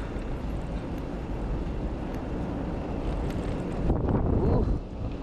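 Steady cold wind on a ship at sea buffets the microphone with a low roar, growing stronger for a moment near the end.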